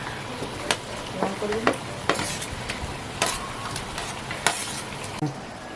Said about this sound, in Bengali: বেগুনের ঝোল ফুটে গেছে আর মাছগুলো ঢেলে দেবো